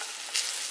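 Small tortillas fry in a pan with a brief, steady, close sizzle and hiss that swells slightly midway.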